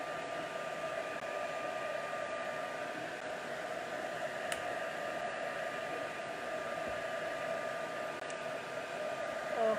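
Hair dryer blowing over mixed media paint on canvas, a steady close rushing whoosh of air held at an even level throughout, with a faint tonal whine and no speech.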